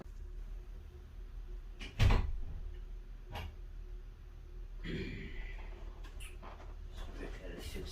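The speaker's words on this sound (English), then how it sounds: "Gotta fix that door." Indoor door opening or closing with a sharp bang near the middle, followed by fainter knocks and rattles in a quiet room, with some low talk around it.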